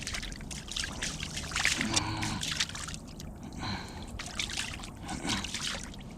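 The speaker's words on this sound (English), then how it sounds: "I'm gonna wash my hands off now now that I got that chummed up" Hands being rinsed off outdoors after mixing sticky carp pack bait at a fishing spot, with steady trickling and splashing water running continuously at close range and no talk.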